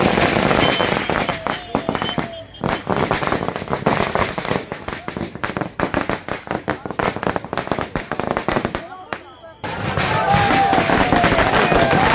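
Firecrackers burst in quick, loud volleys at the Rangia Tarani Ras Mahotsav festival, crackling bangs packed close together amid crowd noise, with a brief lull before a sustained final barrage.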